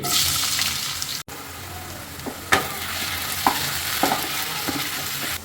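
Finely chopped big onion fries in reused oil in a kadai, giving a steady bright sizzle with scattered scraping stir strokes and brief knocks, close and continuous without talk.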